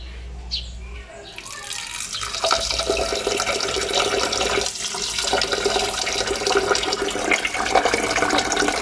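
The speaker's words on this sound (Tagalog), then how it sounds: "Lagyan natin ng tubig hanggang dito." Water runs and splashes steadily into a pot of rice being measured up to a marker line, a continuous close pouring rush that fills the whole stretch without pause.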